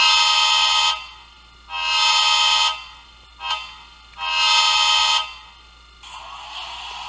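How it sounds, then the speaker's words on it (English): From the DCC sound decoder of a Bachmann HO scale Amtrak ACS-64 Siemens City Sprinter model locomotive, a loud electronic horn blasts in several bursts, two long, one brief toot, another long, then a softer tail. "Two is the horn."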